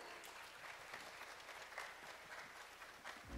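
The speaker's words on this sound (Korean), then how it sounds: "두 분께 다시 한번 큰 박수 부탁드릴게요" A forum audience gives steady, even applause in a conference hall, a soft, distant wash of many hands clapping without voices.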